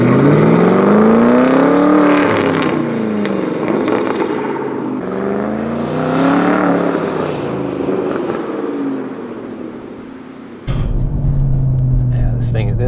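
A powerful 700hp Ford Mustang GT engine revs and roars through rising and falling gear changes, loud and close, with a steadier drone near the end.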